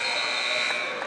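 A basketball game buzzer sounds at a WCAC semifinal between St. John's and DeMatha, a loud sustained electronic tone held steadily for over a second amid the crowd.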